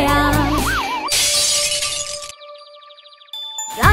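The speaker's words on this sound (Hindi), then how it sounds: "हम्टी डम्टी दीवार पे बैठा, हम्टी डम्टी नीचे गिर गया" A glassy shatter crashes loudly in a cartoon nursery-song scene, followed by tinkling fragments and bright chiming tones that fade, with a warbling musical line beforehand.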